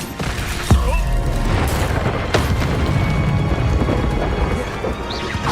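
Loud booming blasts from the Confringo blasting spell in Hogwarts Legacy, a sharp detonation early followed by another impact and a rumbling, busy combat bed with no talking.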